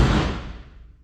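Door slammed shut on a V8 Ford Ranger pickup with no door seals, a single loud bang that rattles and decays quickly.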